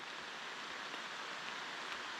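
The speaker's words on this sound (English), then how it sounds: "You can hear the sound of that rain." Heavy rain pours down beneath a tree in wild castle gardens in Scotland, a dense steady hiss of falling water that stays even throughout, fairly quiet and with no voices.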